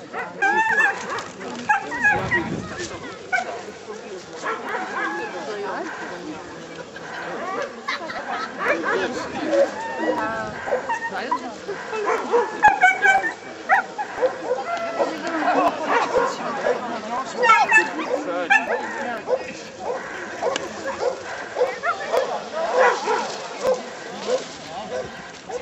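Hunting dogs bark, yip and whimper throughout a hunt trial, with repeated calls at mid distance mixed with people talking nearby and outdoor background noise.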